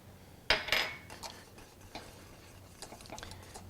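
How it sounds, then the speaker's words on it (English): Pastry cream stirred in a pot with butter, giving a few sharp utensil clinks and scrapes against the metal followed by softer, irregular stirring taps, close and fairly quiet with no talking. "Just stirring this to combine."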